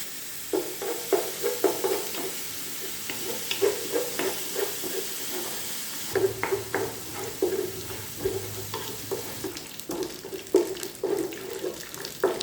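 Whole spices (panch phoron, cardamom and cinnamon) sizzle in a pan, a steady frying hiss broken by repeated scraping stirs and clicks throughout, close and moderately loud.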